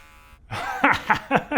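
Electric beard trimmer cutting a beard: a short steady buzz gives way to four quick, rhythmic bursts as the blades pass through the hair, close and moderately loud.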